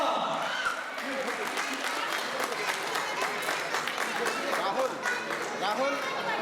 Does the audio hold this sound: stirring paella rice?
no